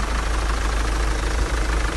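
A 2009 Volkswagen Passat CC with a DSG gearbox idles steadily near the open engine bay, its engine giving a constant low hum with a light mechanical clatter.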